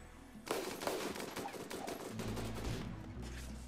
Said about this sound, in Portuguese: Minigun é loucura, né? Olha que doideira.